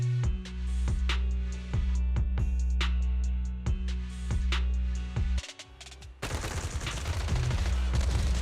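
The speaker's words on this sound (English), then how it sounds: "Gunfire? This pattern. Suppressive marching fire." Video game suppressive marching fire: sharp gunshots crack out at a steady paced rhythm, then a brief drop gives way to a denser, noisier burst of fire near the end.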